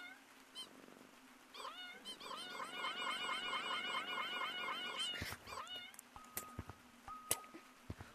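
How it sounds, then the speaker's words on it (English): A cat meows in a run of close, wavering, drawn-out calls over about three seconds, followed by a few scattered clicks and knocks in a quiet room. "Kitty cat!"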